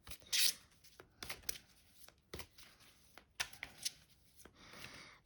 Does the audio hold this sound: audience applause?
no